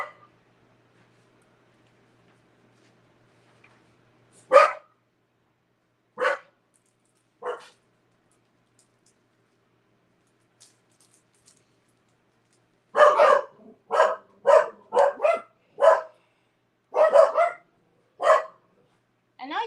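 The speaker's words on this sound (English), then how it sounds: "They're gonna bark and bark and bark until Nick comes in." Dogs bark at a car arriving in the driveway: a few scattered barks first, then a rapid burst of repeated barking later on, moderately near, with no voices over them.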